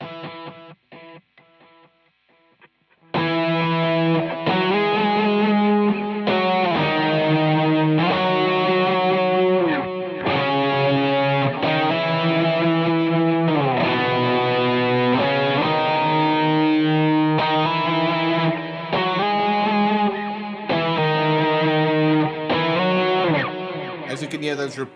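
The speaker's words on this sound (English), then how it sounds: "But if I add like a dual delay," Electric guitar with a dual delay effect, a brief quiet clean passage and then a steady stream of strummed chords and notes with trailing repeats, loud and continuous with no talking.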